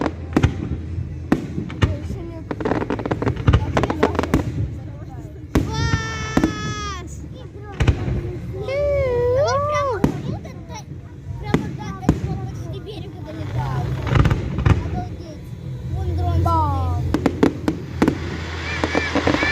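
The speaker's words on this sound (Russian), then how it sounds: "Вот такой вот салют в честь открытия курортного сезона" Evening fireworks salute in Gelendzhik opening the 2021 resort season: repeated sharp bangs and crackling bursts in an irregular rapid series, mixed with whistling rising tones, children's voices and crowd chatter.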